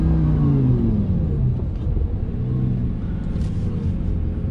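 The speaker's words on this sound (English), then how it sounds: "Nice downshifts." A 2007 Lamborghini Gallardo coupe with a 5.0L V10 rumbles and drops revs on a downshift, heard from inside the cabin as a loud, deep engine note that falls and then settles into a steady drone.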